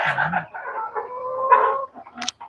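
Native farm chickens cluck and make short vocal calls close by, several bursts in quick succession, loud and clear with no voices.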